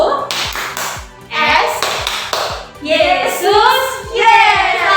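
Children chant letter by letter through a Catholic children's faith-class clapping game spelling Yesus, with steady rhythmic hand claps and taps marking each beat under the voices.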